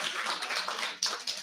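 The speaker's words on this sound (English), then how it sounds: "Can we give another round of applause for her," An audience at a Pasifika Fusion speech event applauds, a faint, dense wash of clapping heard from a distance with a couple of sharper claps standing out near the end.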